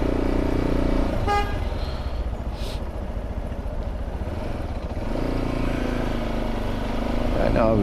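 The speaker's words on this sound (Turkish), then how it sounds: "hemen kornaya basacaksın tıt diye" A car horn gives a short toot amid steady road and engine noise, heard from a motorcycle in Germany, with a second brief honk near the end.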